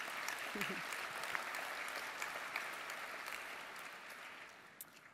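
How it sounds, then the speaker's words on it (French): Quiet, distant audience applause in a large hall at the opening plenary of a medical congress, a soft continuous patter with a brief voice near the beginning. "On peut les applaudir."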